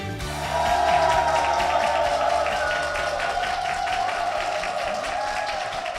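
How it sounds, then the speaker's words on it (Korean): A large church congregation applauding and cheering together, a sustained wash of clapping and voices that swells early and holds steady. "성도님들의 박수와 함성으로 시작을 했습니다"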